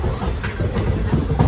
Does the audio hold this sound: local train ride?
yes